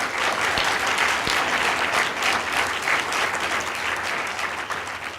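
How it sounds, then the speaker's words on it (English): Audience applause at a Rutgers climate symposium, a dense, steady round of clapping from a full room that holds for several seconds and tapers slightly at the end. "let's give her a round of applause"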